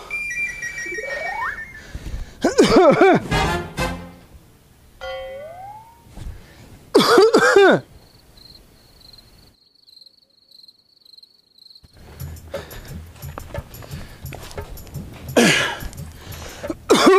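Comic sketch with bursts of coughing and throat clearing mixed with other sound effects, including a whistle-like tone and a steady high beeping tone in the middle, the coughs loud and close.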